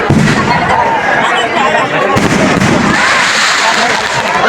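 Fireworks and firecrackers go off at a Ravan burning festival at a temple: a dense, loud barrage of crackling bursts and booms, close by, with voices audible beneath.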